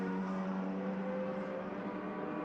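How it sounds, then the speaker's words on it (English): Swift F2000 race cars, mostly 2006 models, run at Road Atlanta, producing a steady, buzzing engine drone at moderate distance without pause. "Sound like a proper race car."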